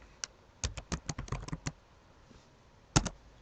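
Quick bursts of computer-keyboard keystrokes tapping out a website address, a dense run of about a dozen clicks followed by a pause and then two sharper, louder strokes, close up in a quiet room with no voices.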